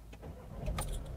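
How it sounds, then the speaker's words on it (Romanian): A Seat Alhambra family car with a 2-litre diesel engine and DSG automatic gearbox is started, a brief starter whirr turning into a rough low engine rumble up close, with small clicks from inside the cabin. "un pic zgomotos motorul de 2 litri diesel, 184 de cai putere"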